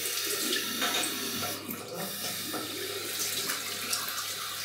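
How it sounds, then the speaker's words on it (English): Cold water runs steadily from a bathroom tap into a sink during a wet shave, a continuous hissing splash lasting throughout at moderate closeness, with no talk over it. "Cold water."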